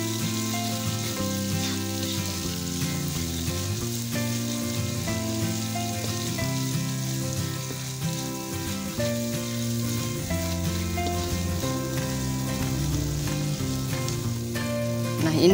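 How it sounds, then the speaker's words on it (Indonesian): Bruised galangal, lemongrass, bay leaves and lime leaves sautéing in a pan for an Indonesian tuna curry: a steady, close sizzle that runs without a break under background music. "daun salam, daun jeruk, kita masukkan semua, kita tumis lagi sampai baunya harum"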